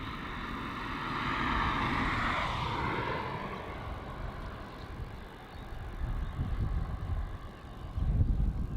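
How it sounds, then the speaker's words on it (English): A Jetstar passenger jet departs Melbourne Airport bound for Sydney, its engine roar swelling and easing in a broad steady wash, with gusts of wind buffeting the microphone. "now is Jetstar flight JQ514 off to Sydney"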